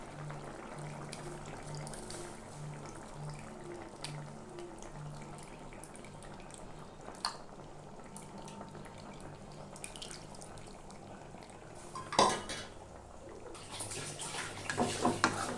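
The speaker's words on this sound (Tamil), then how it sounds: "கரைச்சி வச்ச புளியை ஊற்றிக்கலாம்." Dissolved tamarind water poured into a pot of simmering bitter gourd tamarind curry makes a steady close watery trickle, ending in a brief louder splash and some clatter.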